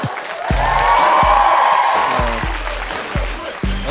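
Studio audience clapping on a Korean lecture-style talk show, a steady wash of applause and crowd noise with a few cheers, close and fairly loud, broken by low thumps throughout.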